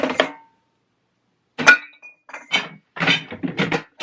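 Glass vases clink together while being packed into a lidded container during decluttering, giving a few short bright clinks and knocks in separate bursts after a brief pause.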